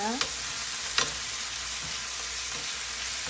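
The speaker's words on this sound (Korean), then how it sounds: "중불에서 볶아 줍니다." Potato and onion strips stir-fry over medium heat in a pan, a steady broadband sizzle with a couple of sharp scrape-and-clack accents from the stirring utensil near the start.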